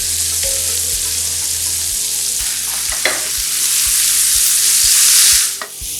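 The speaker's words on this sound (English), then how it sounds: "Don't forget about your risotto. Keep stirring it." Scallops sear with a steady loud sizzle in a pan while risotto is stirred, a rhythmic scraping pulse running underneath the frying hiss, with a brief clatter near the end; no talking.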